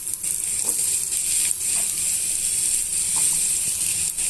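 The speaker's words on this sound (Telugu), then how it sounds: "ఇప్పుడు మనం ఇందులోనే బీట్రూట్ని సన్నగా తరిగి పెట్టుకున్న బీట్రూట్ ముక్కల్ని ఇందులో వేసేస్తున్నాము" Finely chopped beetroot pieces hiss and crackle in hot tempering oil, a steady loud sizzle with faint stirring clicks and no voices.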